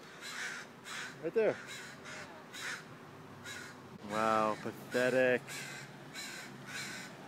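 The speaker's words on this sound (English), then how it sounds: "There's a hurt crow over there." Two bursts of harsh crow cawing ring out near the middle, the first a short call and the second a longer double caw, with someone talking before and between them outdoors.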